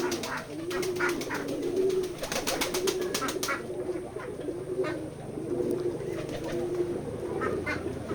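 Pigeons on a farm coo in repeated soft, rolling phrases close by, over a steady hum of background noise.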